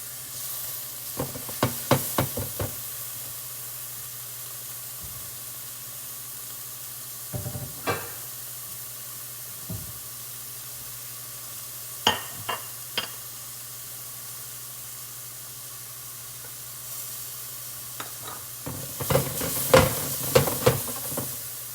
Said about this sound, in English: You hear all the sizzling noise, right?